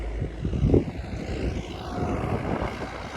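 A heavy MTZ 892 tractor engine drones and labors nearby pulling a reversible plough through heavy soil, a low rumbling strain that swells briefly before settling into a steady throaty growl.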